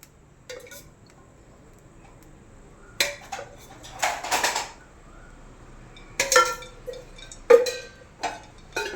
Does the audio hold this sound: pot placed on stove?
yes